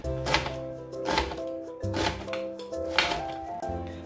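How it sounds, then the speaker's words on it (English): A knife chops cabbage on a cutting board, about five firm, evenly spaced thuds standing close and clear over soft background music. "Then I want to chop."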